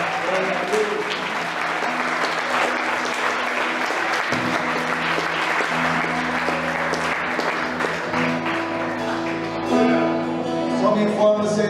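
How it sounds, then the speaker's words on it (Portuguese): Church congregation applauding at the close of a Sunday celebration service, a steady wash of clapping that fills the room for the whole stretch, with sustained organ or keyboard chords and voices running underneath. "Palmas para Jesus."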